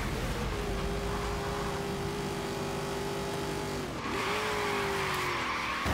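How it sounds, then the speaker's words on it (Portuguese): A car drifts with tires skidding in the video game Forza Horizon 3, a steady engine drone under a long squeal that dips briefly near the end before resuming, loud and continuous. "fiz um drift aqui, eu bati na parede"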